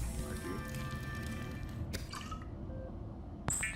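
Water being crafted in the video game Subnautica, a run of bright liquid drips, trickles and glassy clinks over a steady game background, ending in a sharp chime-like burst.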